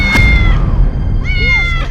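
A cat meows twice, clear tonal cries with a pause between them, heard indoors in an ordinary residential building against a steady low background hum.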